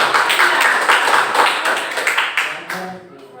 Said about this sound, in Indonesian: kasih aplaus untuk saudara